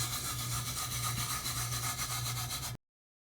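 Steady dry rubbing as a hand presses glitter flat onto a tumbler, a continuous close scrubbing texture with a faint underlying hum, no talk, ending abruptly.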